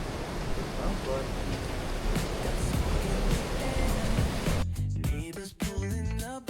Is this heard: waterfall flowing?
yes